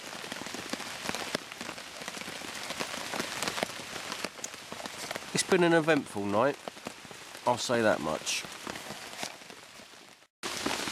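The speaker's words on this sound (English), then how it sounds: "It's still raining, pretty heavy" Heavy November rain patters steadily on a wild camp in England, a dense drumming on surfaces while someone speaks briefly over it.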